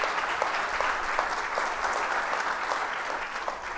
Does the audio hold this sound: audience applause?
yes